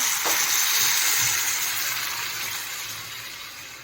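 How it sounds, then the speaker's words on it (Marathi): A loud, bright hiss bursts up as water hits ground spice paste in a hot pan for sandge curry, then slowly fades into a softer steady sizzle. "त्यामध्ये आता पाणी टाकून घ्यायचं आहे"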